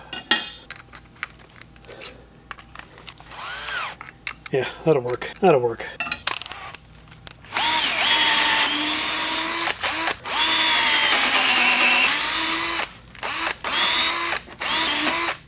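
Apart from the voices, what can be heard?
power drill driving further into screws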